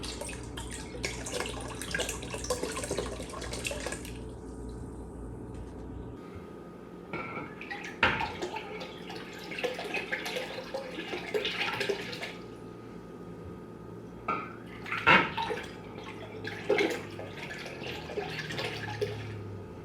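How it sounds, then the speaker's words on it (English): Water being poured and drained out of beer bottles while brewing a one-gallon Chinook IPA: a steady gushing stream for several seconds, then intermittent splashes, drips and glugs close by. "We're going to empty all our bottles out."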